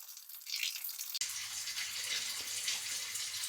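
Cold water runs from a tap into a kitchen sink in a steady, fairly quiet splash. It starts abruptly after a brief lull and continues evenly to the end.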